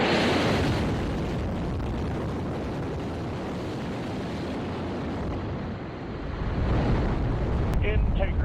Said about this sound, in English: Just moments ago, NASA launched Artemis II from the Kennedy Space Center in Florida